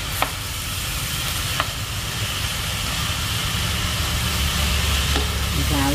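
Rice noodles being stir-fried in a pan over an outdoor home cooking fire, a steady dense sizzle with scraping stirs running the whole time, a few sharp clicks of the utensil against the pan, no talk.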